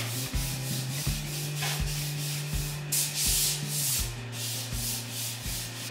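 Scrubbing a bathroom with an old brush and a strong-smelling cleaning product during a renovation: steady back-and-forth rubbing strokes, close and fairly loud, repeating about once a second under a low mains hum, with no talk.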